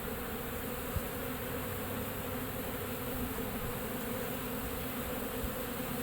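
A dense, steady drone of many honeybees buzzing together during a backyard feeding frenzy, loud and continuous throughout without pauses or voices.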